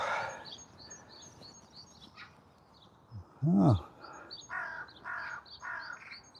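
Birds chirp and tweet repeatedly in a park, with one louder, harsher crow-like call partway through.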